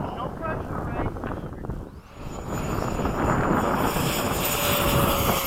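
Freewing 90mm F-104 RC jet flying outdoors, a steady loud turbine-like roar with heavy wind buffeting the microphone, briefly dipping then rising as the jet passes, with a thin whine sweeping through.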